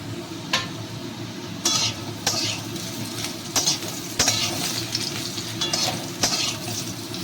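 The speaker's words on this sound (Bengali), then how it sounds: "এবার ডাঁটাগুলো দিয়ে দিচ্ছি একসঙ্গে একটু ঘেটে নেবো" Drumstick stems and potatoes fry in a pan while being stirred, making a constant sizzle. Repeated scraping strokes of the spatula come at a fairly regular rhythm.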